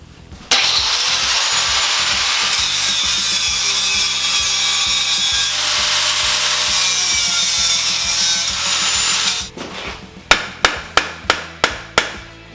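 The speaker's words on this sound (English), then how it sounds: "I'm wondering if I grind those out, if I can get this part out." Weld points on the muffler tube of a Yamaha Maxim XJ650 cafe racer are ground out with a loud, continuous abrasive grinding that runs for about nine seconds. A quick series of sharp metallic knocks follows, and no one talks.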